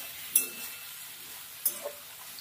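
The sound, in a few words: chopped onions stirred and frying in pan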